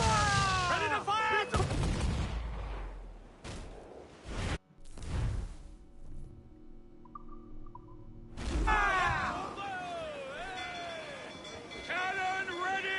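Ship cannons boom in a pirate naval battle in Assassin's Creed Black Flag, heavy blasts and rumbling impacts separated by quieter gaps, with crew voices shouting over the barrage.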